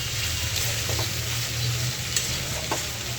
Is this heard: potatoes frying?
yes